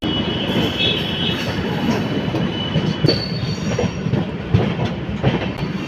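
The Bhavnagar-Kakinada Port SF Express runs after leaving Secunderabad, heard from on board as a steady, close rumble of wheels and carriage with faint high squeals and occasional knocks.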